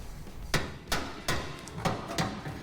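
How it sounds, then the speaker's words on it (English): A hammer strikes bolts to knock them out of tow brackets, six sharp metallic blows in a fairly even rhythm, close and distinct over a quiet background. "Just gotta knock the bolts out."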